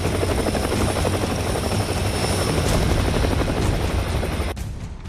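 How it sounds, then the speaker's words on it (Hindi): An HAL Light Combat Helicopter Prachand flies close and loud during its induction into the Indian Air Force, with steady rotor chop and turbine whine throughout before dropping off slightly near the end. "प्रथम इंडिजिनस लाइट कॉम्बैट हेलीकॉप्टर का इंडक्शन हो रहा है।"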